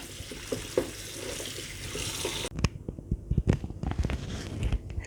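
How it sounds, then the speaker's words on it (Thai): Pumpkin pieces are washed at a sink. Running tap water flows steadily at first, then stops and gives way to close splashing and sloshing as the pieces are handled in the water. "ล้างน้ำให้สะอาดจ้ะ"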